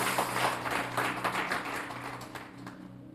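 Dense applause and clapping from a church congregation, a steady wash of many hands at moderate level that tapers off slightly toward the end, with no speech over it.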